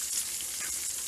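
Steady, dense sizzling and crackling of tuna searing in hot oil, close and continuous, with no voices.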